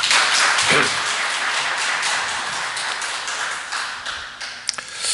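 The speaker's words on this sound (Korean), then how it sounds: "우리 앙상블에게 다시 한번 격려의 박수 부탁드립니다" Congregation clapping for the church ensemble at a Sunday worship service, a broad wash of applause that is strongest at the start and tapers off gradually, with a couple of sharp taps near the end.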